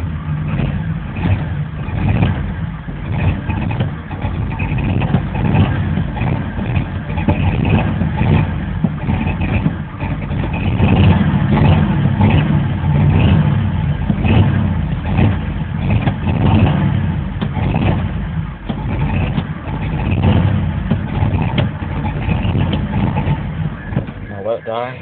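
A 1988 Chevy Cheyenne pickup with a 4.3L V6 engine revs steadily and loudly for about 25 seconds, the rough mid-range engine roar rising and falling slightly in repeated surges, heard close up with no talking.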